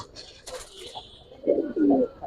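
A male pigeon coos twice in close succession, two short rounded calls near the microphone, after faint rustling and chirpy bird sounds among a pair of pigeons being held.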